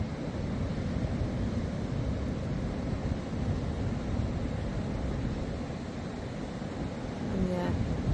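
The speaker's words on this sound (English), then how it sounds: "The waves are breaking quite hard today." Ocean waves breaking hard on a beach give a continuous rushing surf roar, with wind buffeting the microphone throughout and a slight swell near the end.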